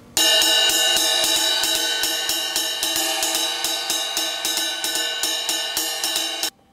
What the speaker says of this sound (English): add a few more hits into the right, and it's going to give it kind of like a stutter feel